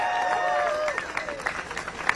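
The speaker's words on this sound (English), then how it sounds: "let's have another round of applause for Jacob Miller" Crowd applause and cheering at an outdoor university rally in support of international students, a dense wash of clapping with whoops rising above it, steady and fairly near for a couple of seconds.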